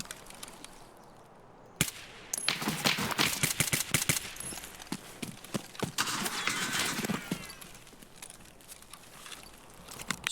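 Gunfire from an SKS rifle in Escape from Tarkov (SPT) rings out as a burst of sharp, loud shots in an irregular, rapid sequence, with clattering impacts in between and no voices.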